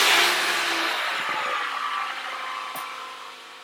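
A 2012 Toyota Camry with a mass air flow sensor fault starts up nearby: a loud engine burst at the start settles into a steady, gradually fading running drone, with no voices.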